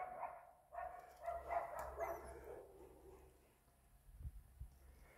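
A dog growls and yips playfully while tussling with a cat at home, with short vocal bursts and some scuffling bumps near the end.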